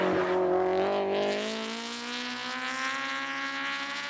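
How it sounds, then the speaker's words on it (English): Car fitted with a K-series engine revving high, a loud, buzzy rising engine note with strong steady harmonics climbing in pitch, heard close and alone. "a K-series engine does sound like a Mosquito"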